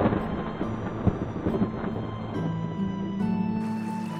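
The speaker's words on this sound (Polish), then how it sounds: "miarowe odgłosy pioruna wyznaczały takt upływających wieków." Deep rolling thunder rumbles on and off over steady rain-like noise, heavy and continuous, with no voices.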